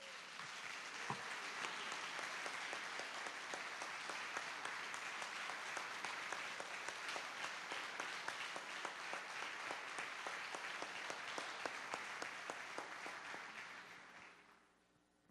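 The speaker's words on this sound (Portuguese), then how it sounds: "Você pode dar uma salva de palmas a Jesus?" A church congregation applauding during a service, a sustained roomful of clapping that holds steady for about fourteen seconds before fading out.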